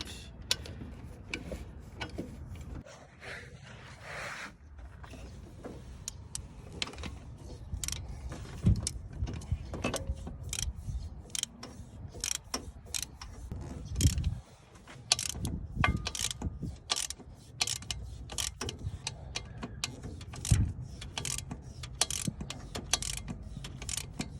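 Socket ratchet tightening the bottom alternator bolt on a 2006-2011 Honda Civic, with bursts of rapid clicking and clunks of metal between pauses, close and alone with no talk.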